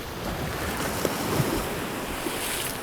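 Strong wind buffets the microphone over the sea off Chujado island while waves wash in a steady, rough roar with a few faint knocks, and no voices are heard.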